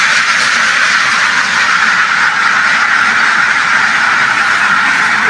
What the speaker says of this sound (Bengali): এখন হাঁস ছাড়া হয়েছে। দেখেন কত সুন্দর করে হাঁসগুলো দৌড়ে দৌড়ে এসে খাবার খাচ্ছে।